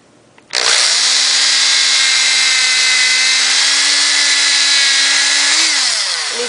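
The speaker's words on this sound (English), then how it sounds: "he pre-drilled all of the holes for all four of the pieces. Now he's going to do these ones on the other side." A power drill whines steadily for several seconds, close and loud, boring holes through wooden pieces for a doll-sized bunk bed, spinning up sharply at the start and winding down slightly at the end.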